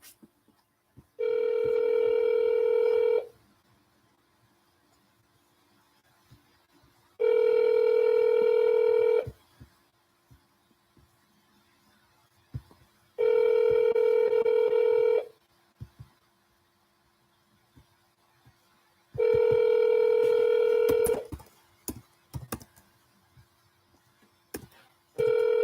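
A telephone dialing back a call plays four long, loud ringback-style tones, evenly spaced by pauses of near silence with faint clicks and hum between them.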